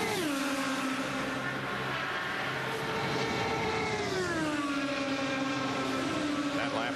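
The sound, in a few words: IndyCar race car on a warm-up lap at Indianapolis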